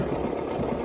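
A Bernina sewing machine stitches in a brief, steady whirring run, close and even in level.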